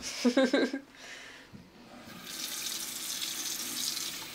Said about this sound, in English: I just like to give it a little rinse just to get some of the slime coat off